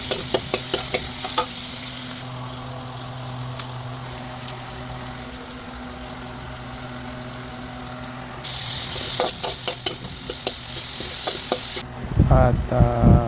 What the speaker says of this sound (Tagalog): Gisahin muna natin yung ating ingredients